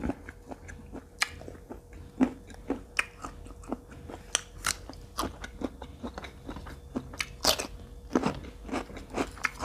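Someone eating fermented pork naem with fresh garlic and chili, close crunchy bites and steady wet chewing over several seconds, irregular and intimate with no talking.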